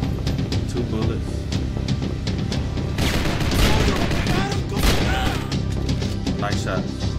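Dense, heavy gunfire in the video game Max Payne 3, with repeated shots and crashing impacts in a loud, chaotic burst that swells in the second half, with a voice speaking over it.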